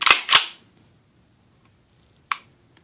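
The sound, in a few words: pistol trigger resetting click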